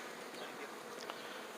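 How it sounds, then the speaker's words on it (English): Honey bees, workers and drones, hum and buzz steadily over an opened hive frame, a dense close swarm drone with no voices. "Some drones on this frame. All the other bees are worker bees."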